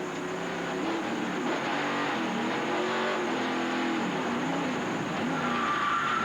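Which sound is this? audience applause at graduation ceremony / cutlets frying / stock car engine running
stock car engine running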